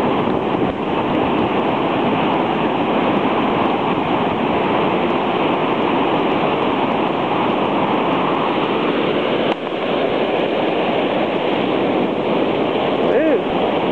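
Hurricane Ike's storm surge waves pound the beach at South Padre Island, making a loud, unbroken roar of crashing surf mixed with gusting wind that buffets the microphone.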